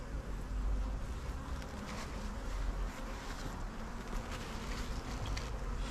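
A thick, continuous drone of honey bees fills the air at an open hive under inspection, close and steady, with a low rumble of wind buffeting the microphone beneath the buzzing.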